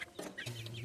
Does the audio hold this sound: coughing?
no